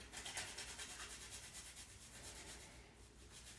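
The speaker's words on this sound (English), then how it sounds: "To that, we're going to grate in some garlic." Garlic is rubbed against a grater in quick, even back-and-forth scrapes, close but soft, for a chicken Caesar salad dressing, with no talk.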